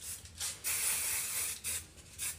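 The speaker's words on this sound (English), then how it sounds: "So I'm going to spray this." A hair spray bottle is spritzed repeatedly while curling hair with a flat iron, giving soft airy hisses in quick bursts with one longer spray in the middle, close by and fairly quiet.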